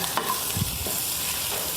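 Chopped onion and ginger sautéing in a hot pan for a pallathi fish curry: a steady close sizzle, with a spoon scraping and stirring through it.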